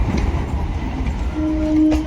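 A Ranaghat–Lalgola passenger train rolls past close by near Murshidabad during track work, with a loud, continuous rumble of wheels and carriages and a short horn-like tone near the end.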